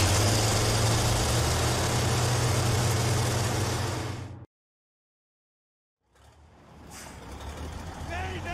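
A heavy tractor engine rumbles loudly in a Spec Ops: The Line battle, a steady low drone that cuts out abruptly into silence for about two seconds, then returns more faintly with game noise.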